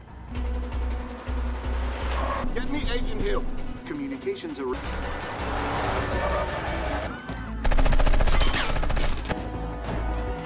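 A six-barrel minigun fires from a car during a movie action scene. Sustained loud bursts of gunfire mix with engine and crash noise while a voice narrates over it.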